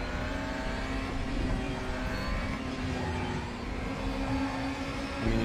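DTM race cars in a racing video game, with a steady, loud engine roar and shifting revs as several cars run close together throughout.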